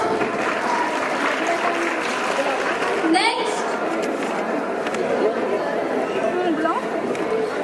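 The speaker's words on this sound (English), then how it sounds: "Give them a big round of applause." Applause from a college event audience after a group dance performance: sustained crowd clapping mixed with chatter and a few whoops, fairly loud and continuous throughout.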